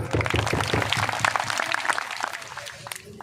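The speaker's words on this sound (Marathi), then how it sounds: "टाळ्या वाजून." Audience applause at a large rally against alcohol addiction, a moderate burst of clapping that thins out toward the end.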